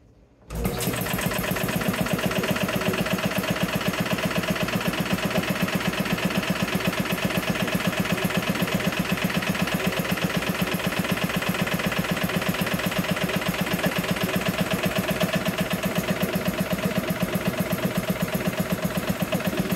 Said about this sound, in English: An old 1953 Curtis air compressor.